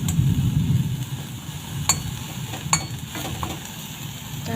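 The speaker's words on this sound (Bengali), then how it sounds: "এগুলো অনেক ভালো করে লাল লাল করে ভেজে নিয়েছি আমি" Chopped dried fish (shutki) sizzles and fries in a pan, a soft steady crackle with a few sharp clicks of a utensil stirring and scraping, quiet and close.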